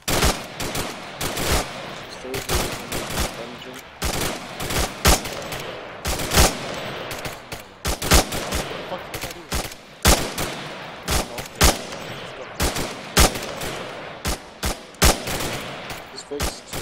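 Rapid gunfire rattles through a combat drill in repeated bursts and single cracks, loud and close, spread across the whole stretch with brief gaps between volleys.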